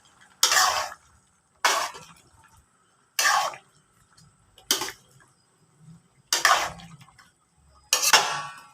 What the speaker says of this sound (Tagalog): Haluin na nga natin yun para sa lahat ng luto.